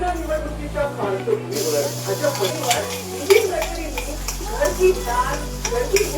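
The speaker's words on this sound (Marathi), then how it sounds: "आता जिरा आणि मोहरी टाकू" Cumin and mustard seeds sizzle and crackle in hot oil in a pan, a steady close frying hiss with small pops, while stirring sounds come and go and a person talks over it.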